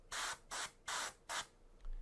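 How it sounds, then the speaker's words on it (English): An airbrush or spray can puts paint on a small miniature figure in four short hissing bursts, each about a third of a second long, close and steady, with pauses between them. "So I'll spray a little bit from the bottom."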